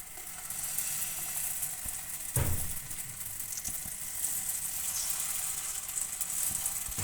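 Paratha batter sizzling in cooking oil in a frying pan, a steady close hiss of frying with a brief louder burst partway through and light clinks, no talking.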